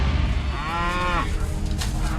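A cow gives a single loud, drawn-out moo nearby against a low rumbling background.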